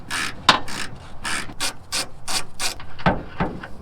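A ratchet with a T55 Torx bit loosens a bushing bolt on a 20-year-old Dodge Dakota, clicking in a run of about ten sharp, close strokes in an irregular rhythm.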